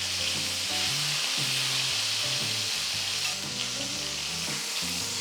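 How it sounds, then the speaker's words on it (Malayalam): Chicken pieces for a chicken roast shallow-frying in a pan, a steady loud sizzle and crackle of oil running throughout with no talk. "ബാക്കിയുള്ള ചിക്കൻ ഇതുപോലെ ഫ്രൈ ചെയ്തെടുക്കാം."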